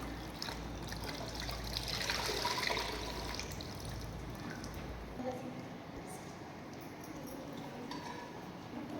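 Water trickles and dribbles from a soaked jute sack wrung out over a bucket, a soft, steady pattering with occasional clinks, fairly quiet and close, under faint background noise.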